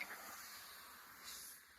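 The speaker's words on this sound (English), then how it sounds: "So this is just a cheap steamer, I think, from Amazon or Walmart. Just Conair." A cheap Conair garment steamer hisses steady steam onto a bunch of hanging shirts, a continuous close breathy rush that swells briefly near the end, with no talking.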